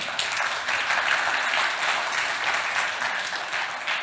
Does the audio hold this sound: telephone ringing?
no